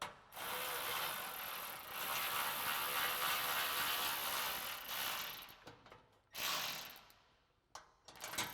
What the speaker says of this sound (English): Then you can take your 10mm socket and tighten these up.